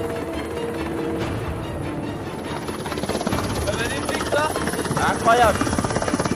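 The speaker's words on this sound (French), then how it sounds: "C'est en hélicoptère que nous nous dirigeons vers mon prochain défi." A military helicopter carrying a mountain commando unit roars steadily in flight over rugged mountain terrain, loud and continuous, with a voice speaking over the engine noise.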